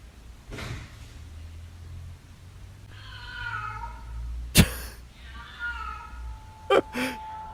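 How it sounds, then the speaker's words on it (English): A cat meowing inside a house at night, drawn-out wavering cries in two stretches, fairly faint and distant, broken by a couple of sharp bumps or clicks. "Probably some cat broke into there."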